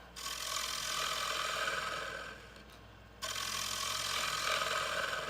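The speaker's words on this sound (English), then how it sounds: "Hey, that cuts nice when it's sharp. This is a Doug Thompson 3/4 inch bottom bowl gouge." A Doug Thompson 3/4 inch bowl gouge cuts spinning wood on a lathe, making a steady raspy shearing hiss that dips briefly and then resumes strongly, heard close with a low motor hum underneath.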